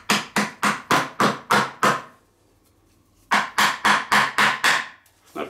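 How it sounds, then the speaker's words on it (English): A screwdriver strikes a plug into a Karcher pressure washer wheel in a burst of about seven sharp, evenly spaced taps, a short pause, then another run of six or so taps, loud and close. "put the plug in, and hit it in with a screwdriver"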